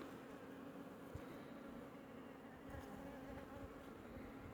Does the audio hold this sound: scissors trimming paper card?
no